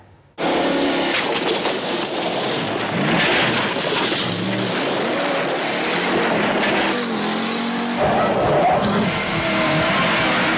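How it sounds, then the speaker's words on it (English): An old Dodge Charger driven at high speed over rough ground during a film car stunt: a loud, continuous engine roar that kicks in abruptly, with tire scrabble and skidding surges along the way. "High-speed driving on some of these rougher surfaces like they're doing here with the old Charger"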